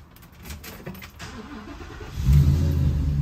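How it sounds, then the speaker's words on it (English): The engine of a 2023 Thor Four Winds 24F RV cranks and catches, then settles into a loud, steady low idle rumble close by. "So now we're gonna start the vehicle."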